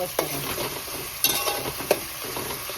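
Tomatoes frying in a pan for a Malvani crab curry, with a steady sizzle broken by three sharp scrapes of a spoon stirring, close and alone.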